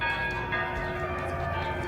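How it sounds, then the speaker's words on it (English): Church bells ring near a cathedral on a final day in Mexico, a dense, sustained wash of overlapping metallic tones filling the air steadily and fairly loud, with no talking. "The bells have rang and now"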